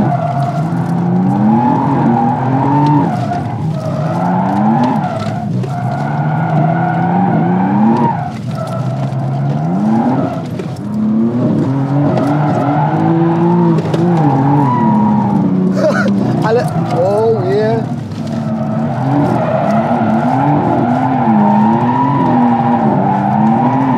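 A car spinning its tires, its engine revving hard under long, continuous tire squeal and skidding that swells and wavers for over twenty seconds, loud and close.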